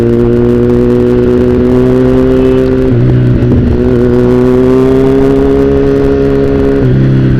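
Steady, loud engine drone of a nearby vehicle at a town fiesta, its pitch holding level and then briefly dropping twice as gears shift, with no voices.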